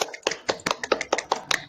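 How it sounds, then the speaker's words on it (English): A small classroom group claps for themselves during a micro-teaching lesson, giving a short burst of sharp, fairly close hand claps in an uneven rhythm, with no talking over it. "give a big applause to yourself"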